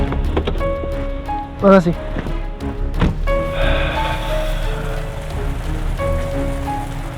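Steady rain patters on a surface throughout as a constant wash, with a brief thud and clatter midway and people talking over it.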